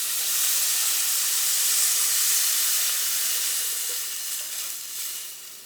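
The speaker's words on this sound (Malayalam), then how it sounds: "ഇതിലേക്ക് നമുക്ക് കുറച്ചും കൂടി വെള്ളം ചേർക്കാം" Water poured into a sizzling prawn curry cooked with kudampuli, producing a loud, steady hissing sizzle and steam that slowly eases off toward the end.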